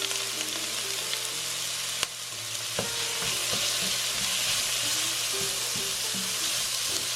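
Onions and garlic sizzle in a pan with a bright continuous hiss, punctuated by light scraping and clinks from stirring, close and steady.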